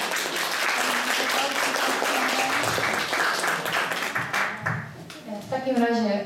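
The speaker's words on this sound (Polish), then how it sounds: "Brawa dla nich." Audience of grandparents at a Grandparents' Day celebration applauding the grandchildren, a dense, sustained patter of clapping that thins toward the end as a voice and music rise.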